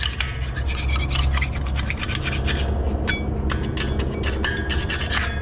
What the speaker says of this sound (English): Let's scrape all that off. Get right into the corners.